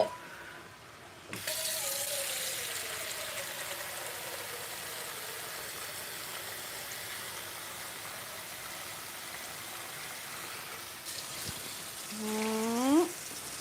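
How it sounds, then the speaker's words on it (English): Water poured into a pot of Puerto Rican sancocho soup, a steady close rush of running liquid that begins abruptly and holds, ending with a rising gurgle as the pot fills. "Start putting the water in."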